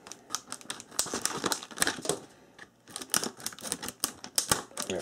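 Scissors snip and crackle through product packaging for a solar charger, a quick irregular run of close crisp cuts and crinkles with a brief pause midway.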